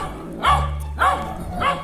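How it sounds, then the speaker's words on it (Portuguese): A dog barks angrily in a small neighborhood in Terra Boa, Paraná: three sharp barks spaced about half a second apart, fairly close, over a low background hum. "Esse cachorro tá bravo com nós, ó."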